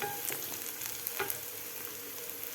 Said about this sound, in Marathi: दोन मिनिट आपल्याला एक कांदा परतून घ्यायचा आहे